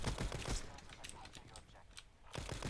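Sniper rifle fire in the PC shooter Black Ops 4, with sharp cracking shots at the start and end and scattered game effects in between, all fairly quiet.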